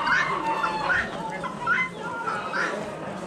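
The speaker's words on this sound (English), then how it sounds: "Guineas! I got a few of them, not very many." Guinea fowl at an Amish animal auction give repeated harsh, rattling calls at a moderate distance, about four bursts in a few seconds, over a busy background murmur of voices and other birds.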